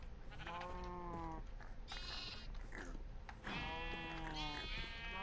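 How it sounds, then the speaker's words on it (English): Sheep in the Minecraft Terrafirmapunk modpack bleat several times in a row, clear and fairly close, their wavering calls overlapping in a game setting. "I actually need to shear some sheep real quick."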